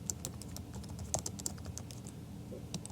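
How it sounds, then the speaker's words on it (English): Quiet, steady typing on a computer keyboard while a question is entered in an online form, with rapid irregular key clicks continuing throughout and no voices. "So now we can type a question."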